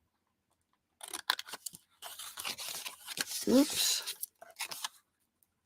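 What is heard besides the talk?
scissors cutting out a paper square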